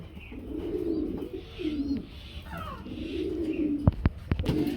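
A pair of Baghdadi pigeons coo in low, rolling repeated phrases at close range, with a few sharp clicks and light rustling near the end.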